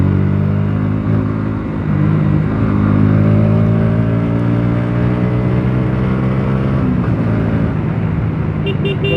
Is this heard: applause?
no